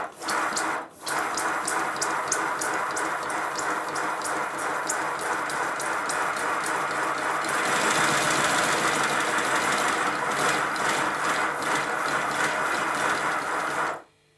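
A Simplex steam locomotive engine runs on compressed air after oil was pumped into its steam inlet, giving a steady rapid mechanical chuffing and knocking with hissing from the drain cocks. It holds continuous and fairly close, briefly dipping near the start and stopping at the end.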